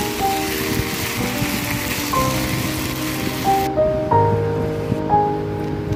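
Green chilies and tamarind sizzle and crackle in a hot pan with a soft, continuous frying hiss and a few clinks of a utensil, close up, with no talking.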